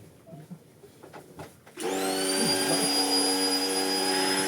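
A vacuum cleaner switches on after a few soft knocks and rustles, then runs with a loud, steady whine close by, nobody talking over it.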